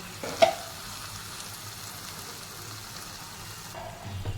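Tomato puree sizzling in oil in a pan, a steady close frying hiss that runs throughout with a brief louder splash near the start.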